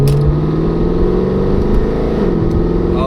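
A Mercedes W204 C63 AMG accelerates hard, its engine roaring loud and close with rising pitch and a brief gear change partway through.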